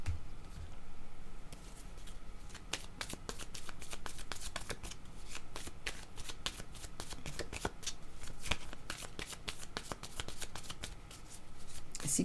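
Tarot cards being shuffled by hand, a steady close rustling riffle with repeated sharp flicks of cards throughout, quiet and without speech.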